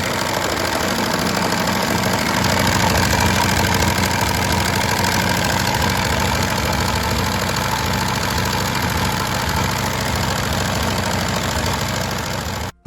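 A 1934 Morgan MX4 three-wheeler with a 1000cc Matchless V-twin runs steadily throughout, a loud, continuous engine drone with a knocking idle texture that cuts off sharply at the very end.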